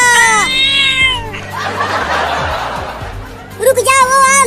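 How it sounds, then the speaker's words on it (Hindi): A cartoon cat in a Hindi comedy meows in rising and falling wails, then breaks into a noisy, hissing snarl before more loud, close meowing. "ये बिल्ली अपनी दांतें दिखा रही है हमें काटने के लिए।"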